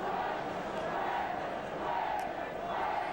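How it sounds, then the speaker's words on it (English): A Wigan rugby league crowd at a premiership final roars in a sustained, distant swell of cheering and chanting that rises and falls, with faint commentary underneath. "And the Wigan crowd really getting behind them now."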